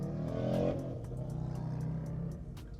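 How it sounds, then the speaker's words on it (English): A motorcycle engine drones loudly nearby, its pitch shifting as it passes, with a few clicks over the rumble. "If you heard that, that was a motorcycle or something like that"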